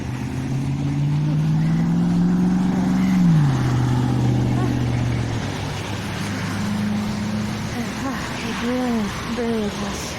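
Car engine left running in extreme cold at Oymyakon, a steady idle whose pitch shifts down midway, with voices talking in the background later on.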